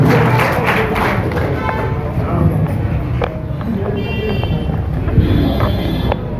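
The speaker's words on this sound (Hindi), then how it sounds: "जोरदार तालियों का स्वागत किया जाए, जोरदार तालियों" Applause from an audience at a political rally, a dense, steady patter of clapping mixed with crowd noise that carries on throughout.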